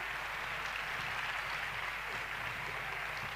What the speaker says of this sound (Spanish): Aplauso muy, muy fuerte.